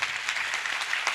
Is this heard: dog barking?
no